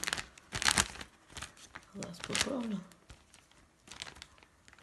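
A small plastic bag crinkles and rustles in quick bursts as it is slipped over a fresh graft on a citrus tree, heard close up while someone speaks briefly.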